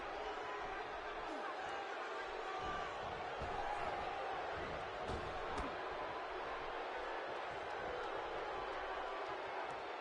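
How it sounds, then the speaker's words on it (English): Steady wash of arena crowd noise during a WWE 2K17 SmackDown wrestling match, a dense constant roar with occasional swells and thumps, running under a commentator's voice throughout. "Another electric crowd on hand here for SmackDown"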